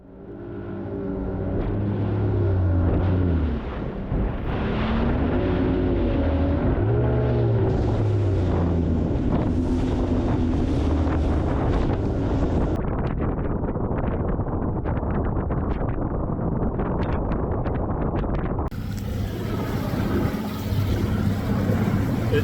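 Strong, steady wind roars and buffets the microphone over the rumble of a moving fishing boat on Clarks Hill Lake in wet weather.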